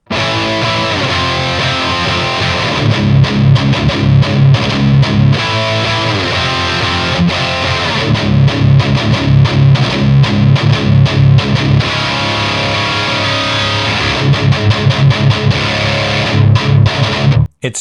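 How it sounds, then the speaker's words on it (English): A custom Kiesel electric guitar plays heavy, distorted, palm-muted chugging riffs through a high-gain channel, loud and continuous with tight rhythmic stops, no voices. "I can't stop chugging on this guitar."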